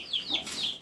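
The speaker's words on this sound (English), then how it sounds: "It's just the same chicken." A backyard hen gives a short run of close, soft clucks, barely under a second long.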